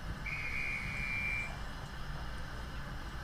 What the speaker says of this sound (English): That was the guard's whistle.